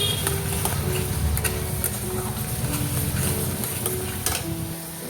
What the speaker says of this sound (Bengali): তো হলুদটা দিয়ে খুব ভালো করে কষিয়ে নেব।